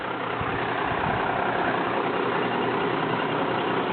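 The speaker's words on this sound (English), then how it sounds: "This is a 1993 Ford Cargo 7000 submodel." The engine of a 1993 Ford Cargo 7000 rollback truck idles with a steady, close, low rumble that continues unchanged throughout, with no voices.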